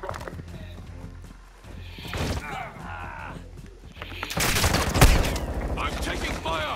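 Gunfire in Call of Duty: Modern Warfare II during a Hardpoint match: scattered shots early, then a loud, dense burst of rapid automatic fire from about the midpoint on, mixed with in-game voices and battle noise.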